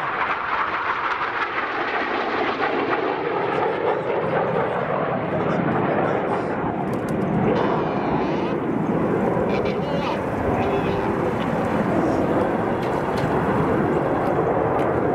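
Red Arrows Hawk T1 jets at an air display, a continuous broad jet roar with shifting pitch throughout, distant and steady, with a commentator speaking over it.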